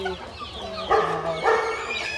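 Country hens being fed vegetable waste and greens give two distinct, fairly close clucking calls over a low background murmur.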